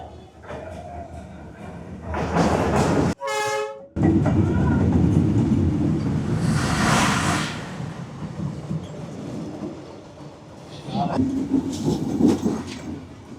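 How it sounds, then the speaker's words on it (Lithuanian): A train rolls very close past cafés and onlookers on Hanoi's narrow train street, a loud sustained rumble and clatter with a short horn-like burst, rising and fading across the scene under crowd noise. "žiūrėsim, kaip gyvai važiuoja traukinys"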